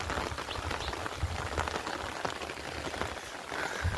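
Winter rain in Gujarat patters steadily onto the ground and surfaces outdoors, a soft continuous hiss of drops without any voices.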